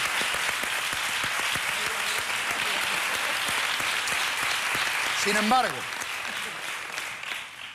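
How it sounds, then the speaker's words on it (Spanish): A television studio audience bursts into sustained applause, dense and fairly loud throughout, while a presenter's voice briefly cuts in near the end before the clapping fades. "Un aplauso para ellos."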